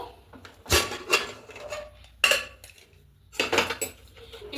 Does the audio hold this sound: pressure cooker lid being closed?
yes